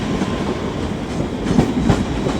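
A ScotRail Class 385 electric train passes through a platform at Edinburgh Waverley station, a steady loud rumble with rhythmic clickety-clack of wheels over rail joints, nearby and without voices.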